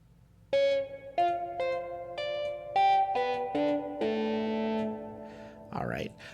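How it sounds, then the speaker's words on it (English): Distorted, effect-laden synth guitar tones built in LMMS music software play a sequence of sustained harmonic notes, with reverb trailing a long final chord before a brief noisy burst; no talk. "They've got like a weird guitar sound here."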